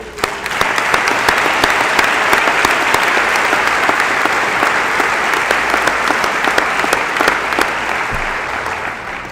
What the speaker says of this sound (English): Graduates, it's now your chance to applaud these people that have helped you along with your journey.